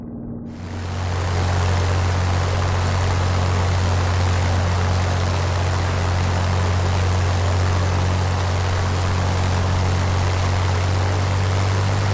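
Spitfire piston engine in Microsoft Flight Simulator drones loud and steady from an exterior view, a constant low hum with a broad roar that rises quickly at the start and holds unchanged to the end.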